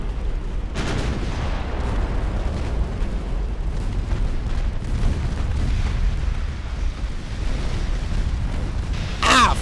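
Warship magazine detonation in Ultimate Admiral: Dreadnoughts, with an 1890-era hull blowing up amid naval battle; a sustained, heavy roar of explosions and gunfire rumbles loudly throughout, ending with a sharper burst.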